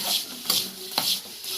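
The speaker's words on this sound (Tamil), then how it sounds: "நம்ம மிக்ஸ் பண்ணிக்கலாம்" French fries seasoned with pepper and salt are stirred in a pan, producing three broad scraping strokes with sharp knocks between them, close and fairly loud, over a faint sizzle.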